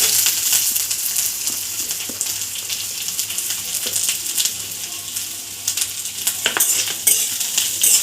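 Chopped onions sizzle steadily in hot oil with bay leaves while a spatula stirs and scrapes the pan, with close, continuous frying broken by sharp scraping clicks.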